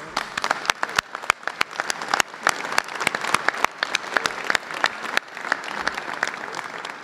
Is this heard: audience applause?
yes